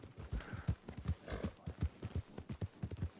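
Horse hooves clop in a quick, rhythmic galloping beat in Red Dead Redemption 2, fairly soft and moving away, with a faint whinny-like tone.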